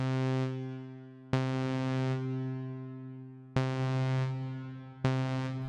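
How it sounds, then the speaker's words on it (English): A Korg NTS-1 digital synthesizer plays four sustained, harmonically rich notes through hall reverb, each struck sharply and then decaying slowly, the later ones cut off by the next attack, alone with no talk. "I'm going to give us, I think, just some hall reverb here"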